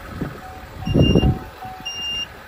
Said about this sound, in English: there's alarm sounding because the tailgate's up